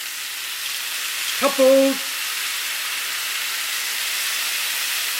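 Chicken wings browning in a pan, giving a steady close hiss and sizzle of frying that runs throughout, with a short spoken word partway through.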